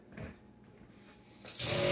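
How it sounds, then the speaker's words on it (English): A small RV water pump starts up indoors beside a hot water heater, a soft low hum giving way to a loud, steady rushing whir that holds to the end with no voices. "there's a little RV pump"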